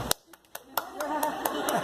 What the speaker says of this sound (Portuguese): Então eu queria que os 3 netos aplaudissem agora as bisavós